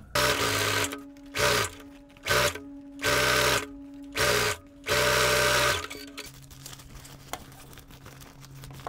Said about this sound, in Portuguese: Vou costurar aqui no contorno.